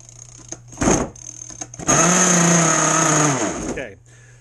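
A two-stroke RC boat engine, already warm and unchoked, gives a short buzzing burst, then fires into a high, raspy whine for about two seconds before cutting out. Faint talk sits between the bursts.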